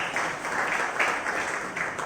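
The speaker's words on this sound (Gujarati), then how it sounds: "અને આ જે તાળીઓ પડી છે" An audience at a Gujarati poetry gathering applauds, a dense steady wash of many hands clapping that fills the whole moment.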